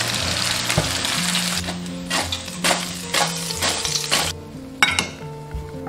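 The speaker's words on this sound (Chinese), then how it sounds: "再放上去炸个5秒左右就可以了。" Pumpkin pieces are fried a second time in very hot oil for a few seconds. They make a loud, steady sizzle broken by metallic clinks and scrapes of stirring, which fade toward a quieter end.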